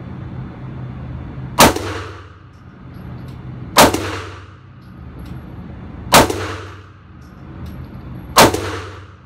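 Four evenly spaced Glock 19 pistol shots ring out, each a sharp loud crack followed by a fading metallic decay from a struck steel target, about two seconds apart with quiet gaps between.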